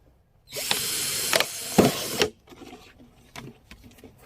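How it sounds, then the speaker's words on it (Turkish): A hole being drilled into a 10-litre plastic PET bottle for a tomato sub-irrigation setup: a steady, close whirring burst of about two seconds with rough bites, then quieter scraping and small clicks. "Şimdi üstten ikinci boğumdan bir delik deliyoruz."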